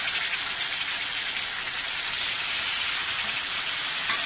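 Ginger garlic paste sizzles in melted butter for paneer lababdar, a steady, even crackling hiss that holds at one level from start to finish, close by and without voices.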